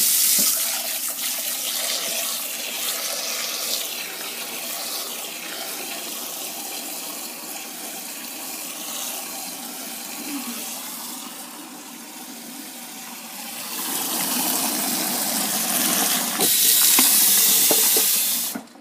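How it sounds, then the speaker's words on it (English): Water runs steadily from a sink faucet while dishes are readied for washing up in a home kitchen, a continuous close hiss that swells louder toward the end. "So you just put a little soap in there, let some water on."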